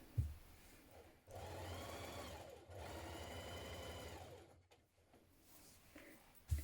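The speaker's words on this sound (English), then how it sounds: "Then when you've done this, we're going to stitch this centre back seam." Sewing machine running in two long continuous bursts as it stitches the centre back seam of a vintage-style coat, Simplicity 8769, with a 1.5 cm seam allowance, steady whirring with a short pause between, close and alone.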